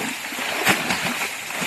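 Water draining out of a fishing pond on a Malaysian palm plantation splashes and gurgles steadily throughout, a continuous rushing wash with one brief louder splash in the middle.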